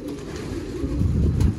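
A female pigeon coos in a low, continuous murmur up close, over a rough, noisy background with no voices.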